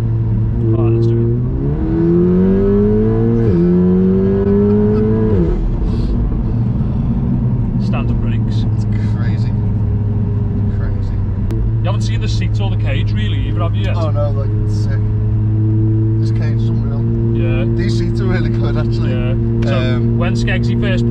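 Hard acceleration from a 500hp Volkswagen Golf R, its engine note climbing through the gears in loud rising sweeps before settling into a steady roar of road and engine noise, with people talking inside the cabin.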